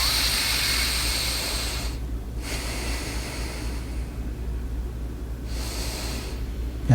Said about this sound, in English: So it's called the 9 rounds of breathing.